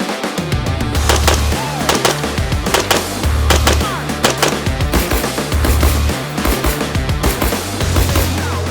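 Cox Arms EMR-1 rifle firing about 20 rounds in a rapid, steady string of loud sharp reports, closely spaced shots with brief pauses, heard up close outdoors with no talking.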